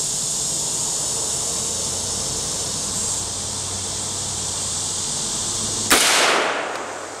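A single M1 Carbine rifle shot rings out at a shooting range during sight adjustment: one sharp crack near the end, following a long steady background hiss, then a quick fading tail.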